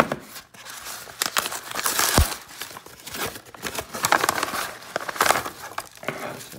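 A mailed package is unwrapped up close, with bursts of crinkling plastic and paper tearing coming in irregular rustling waves at moderate volume.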